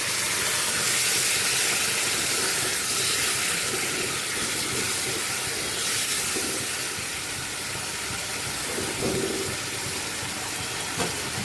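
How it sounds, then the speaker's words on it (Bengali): Water from a rinsed spice bowl is poured into a hot cooking pan of doi potol, giving a continuous loud sizzling hiss that stays fairly even throughout. "বন্ধুরা মশলা দেওয়ার বাটিটা ধুয়ে সেই জলটা আমি দিয়ে দিচ্ছি"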